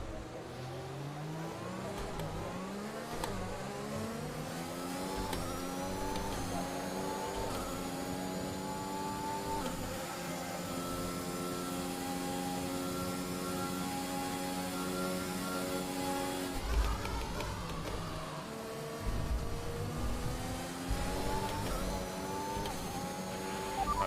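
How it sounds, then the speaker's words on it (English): In-game F1 car from F1 2021, racing wet at Montreal, with its engine failing: a steady, loud engine drone whose pitch repeatedly climbs and drops through gear changes, continuing throughout with no talk. "we have a severe engine issue"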